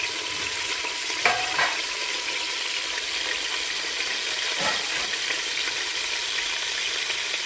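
A steady, soft sizzle of eggplant frying in oil, with a few light clinks of a utensil.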